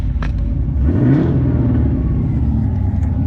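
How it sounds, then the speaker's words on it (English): An LS V8-swapped BMW E36 engine revs up sharply, its pitch climbing and then settling back into a steady rumble close by. "now it revs fine"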